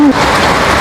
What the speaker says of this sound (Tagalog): Lalo lumalakas yung ulan.